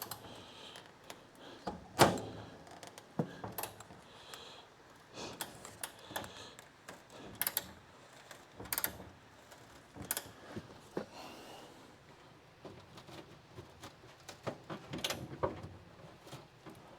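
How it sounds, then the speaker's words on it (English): A ratchet wrench works on a restoration of a crew cab Charger, giving quiet, irregular clicks and clunky turning strokes in short bursts, with no voices. "I'm confident enough to go at this with the ratchet."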